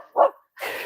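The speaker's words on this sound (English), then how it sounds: "Such a vicious puppy." A puppy named Charlie gives a single short, close bark, then a softer whimpering yip trails off.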